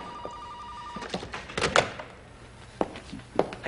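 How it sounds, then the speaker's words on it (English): A telephone rings in short electronic bursts amid scattered thumps and knocks, as in a busy shop or workroom; no voices are heard. "Would you answer the phone, please?"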